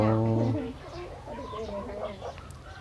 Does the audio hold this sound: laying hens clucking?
yes